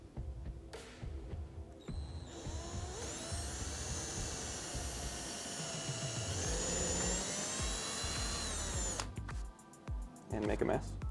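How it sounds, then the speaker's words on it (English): A power drill whines steadily for several seconds, pitch shifting as it bites through material, with short bursts of handling noise before and after. "So I've got a drill here"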